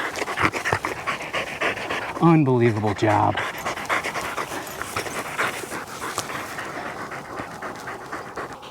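Hunting dogs pant hard after retrieving wild pheasants: rapid, rhythmic breathing close by, running steadily under a man's loud speech, with a short burst of louder, whiny panting midway.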